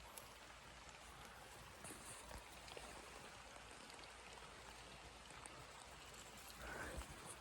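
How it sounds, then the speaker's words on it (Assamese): Quiet, steady rain patters softly on a raised hut, a faint continuous hiss with occasional louder drops, distant and calm with no talking. "এতিয়া মই মনে মনে আছোঁ, বৰষুণৰ মাতটো শুনিব।"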